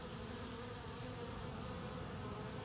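A honeybee swarm crowding into a hive, a dense, steady buzzing drone heard up close and continuous throughout, with no voices.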